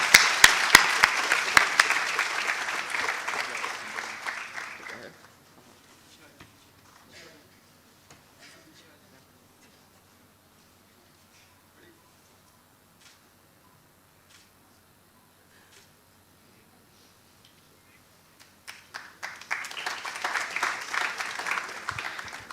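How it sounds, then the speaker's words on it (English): A conference audience gives a round of applause for the event's volunteers, loud clapping that fades to near silence after a few seconds, then rises again toward the end. "please put a huge round of applause for all the volunteers that contributed to the success of this conference"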